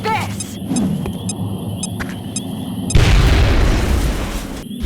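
A grenade detonates in the XCOM video game, a sudden loud boom about three seconds in that follows game voices and electronic blips and then decays into a rumbling wash.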